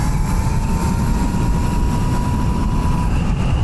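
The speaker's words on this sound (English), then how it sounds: "Wide open throttle." A custom electric bike ridden on a street at wide open throttle gives a loud, steady rush of wind and road noise with a thin electric motor whine held underneath, continuous throughout.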